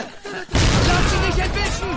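Grenade blast in the WWII shooter Medal of Honor Pacific Assault, a sudden loud boom about halfway through that rolls into sustained battle noise, with a voice shouting over the din.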